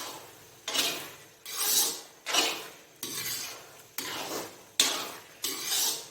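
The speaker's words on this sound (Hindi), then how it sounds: "इसको ऐसे चम्मच को मसलसल चलाएं" A spoon is stirred through carrot halwa with khoya in a pan, about eight steady scraping strokes in an even rhythm, close and fairly loud, with no voices.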